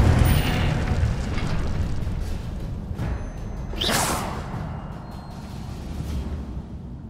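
An Incendio fire spell in Hogwarts Legacy, a dense, continuous low rumble with a swelling fiery whoosh near the middle, loud and steady throughout.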